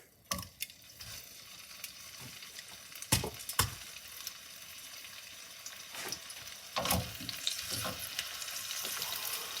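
A steak sizzles steadily in a hot oiled pan, a soft continuous crackle broken by louder spits and pops, close and fairly quiet with no voices.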